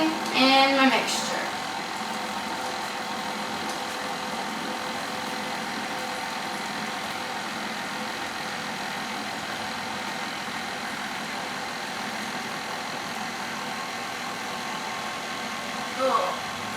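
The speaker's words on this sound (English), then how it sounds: "go over to my mixer, which I'm going to put on a low speed" A stand mixer runs on low speed while whipping a marshmallow sugar mixture, giving a steady, even motor hum throughout with faint clinks near the start and end.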